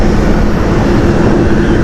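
A jet airliner with a special livery taxis at Amsterdam Schiphol Airport, its steady engine rumble and broad roar filling the air continuously and loudly, with no voices.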